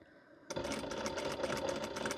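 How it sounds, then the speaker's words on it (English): Sewing machine running a steady straight stitch across a cat bandana, a dense, fast mechanical whir that starts abruptly and holds at even loudness, close to the ear. "The machine I'm using right now is your standard straight stitch only."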